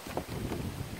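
Wind gusts outdoors, rumbling and buffeting against a handheld phone microphone in a steady, close roar with small surges.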